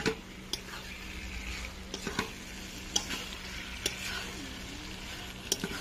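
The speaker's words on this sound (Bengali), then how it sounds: "আলুটা কিছুক্ষণ কষে নেব" Boiled potatoes fry and get stirred in a pan for a pointed gourd and prawn curry, with a steady soft sizzle and scattered sharp spatula clicks against the pan.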